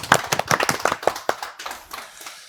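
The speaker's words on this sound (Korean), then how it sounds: "역시 박수 쳐야죠. 박수 주시죠." An audience applauds at a university live technology-evaluation show, a burst of close, sharp handclaps that thins out and fades over a couple of seconds.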